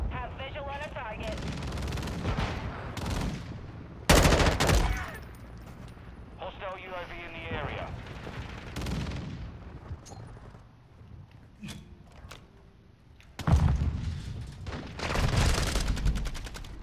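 A bombing run in Call of Duty Modern Warfare II, with loud bursts of explosions and heavy gunfire coming in waves between quieter gaps, while a player talks over parts of it.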